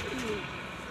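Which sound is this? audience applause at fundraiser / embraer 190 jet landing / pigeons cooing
pigeons cooing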